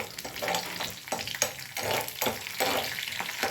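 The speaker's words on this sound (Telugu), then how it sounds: "తాలింపు గింజలు, పచ్చిమిర్చి కొద్దిగా లైట్ బ్రౌన్ కలర్ వచ్చేంత వరకు ఫ్రై చేసుకోవాలి" Seasoning seeds and green chilies sizzle and crackle in hot oil close up, with occasional stirring scrapes and no voices.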